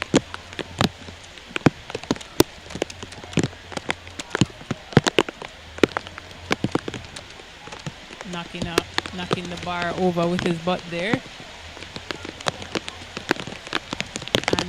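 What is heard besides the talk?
heavy rain downpour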